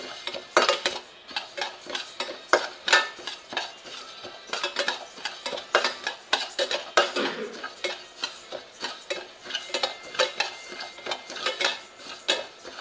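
Ingredients for pasi payaru (green gram) laddu being dry-roasted and stirred in a pan, a rapid, continuous series of metal spoon scrapes and clinks against the pan with a faint sizzle underneath and no voices.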